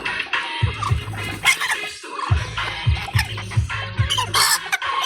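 A hen clucks in low, repeated bursts while laying eggs beneath a corrugated metal roofing sheet, the clucks coming in short runs close by with a brief pause partway through.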